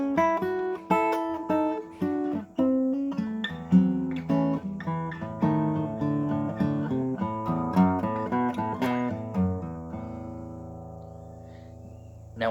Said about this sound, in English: So let's have a look at this opening line. So if I play it in full, it sounds like this.